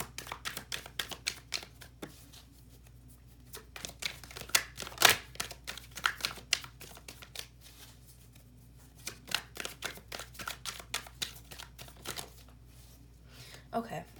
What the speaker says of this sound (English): Let me do some shuffling.